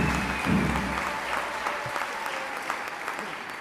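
An audience at a political address in Angola breaks into steady, dense applause, a continuous wash of clapping with a faint voice briefly underneath.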